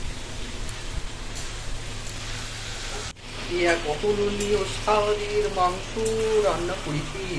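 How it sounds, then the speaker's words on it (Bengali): Chicken pieces fry in a pan with a steady sizzle. After a brief break the crackling grows louder and busier, with scraping and stirring, and a voice is heard over the cooking. "তারপর মাংসগুলোকে দিয়ে দেবো আর ভালো করে কষিয়ে নেব।"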